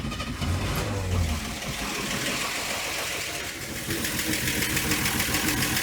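A 1966 Corvair engine cranks with a rough, rhythmic churn, then the tone shifts to a steadier, busier running sound partway through, close and continuous.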